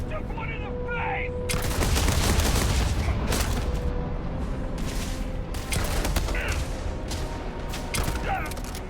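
Rapid bursts of gunfire from the video game Starfield, with loud sustained volleys and sharp individual shots repeating across the stretch, under a voice talking.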